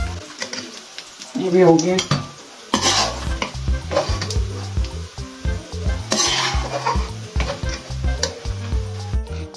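Dry dates being stirred and fried in a pan while making panjiri ladoos, with repeated scraping and clattering strokes over a steady sizzle, close and fairly loud, and a brief spoken remark partway through.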